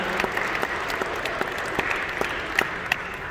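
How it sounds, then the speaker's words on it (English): Applause for performers at a student composition showcase concert, a steady crowd clapping with some sharper individual claps standing out, continuous and moderately loud throughout. "we have one more round of applause for the performers here"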